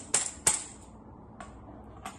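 A pandeiro, the Brazilian tambourine, struck a few times up close, with sharp jingling hits sounding alone in a quiet room.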